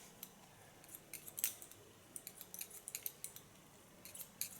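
Scissors snip hair in quick, close, crisp cuts, clustered in short irregular bursts during a short pixie haircut in a salon.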